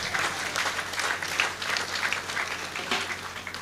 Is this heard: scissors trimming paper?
no